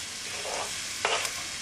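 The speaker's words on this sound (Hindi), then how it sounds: "इसको हमको अच्छी तरह से भूनना है।" Finely chopped onion and green chilli sauté in a pan for beet greens curry, a soft steady sizzle with a couple of brief stirring scrapes, fairly quiet and alone.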